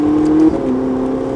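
A Ferrari 458 Italia roars loudly at close range on the Linas-Montlhéry circuit. Its strong engine tone dips as it shifts up a gear partway through, then settles into a steady, accelerating drone.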